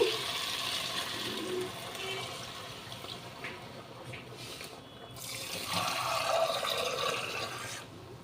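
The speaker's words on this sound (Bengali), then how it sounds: "এবার আমি জল ঢেলে দিচ্ছি" Water is poured into a cooking pot for a thin egg curry, a steady close splashing and trickling that swells and fades over several seconds, with light kitchen clatter.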